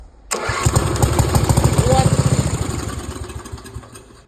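A lawn mower engine cranked and started on a shot of brake cleaner, catching at once and running loud and close with a rapid pulsing chug before slowly fading.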